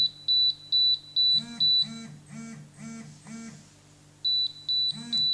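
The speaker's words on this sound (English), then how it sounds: "as soon as your timer reaches zero, the DX6i will start vibrating" A Spektrum DX6i radio transmitter signals that its timer has reached zero with rapid high beeps and a run of buzzing vibration pulses, loud and close.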